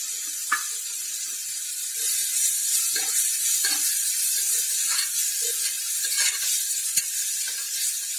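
Mint and coriander leaves sautéing in a hot pan, a steady close sizzle with occasional stirring scrapes and light clicks, no voices.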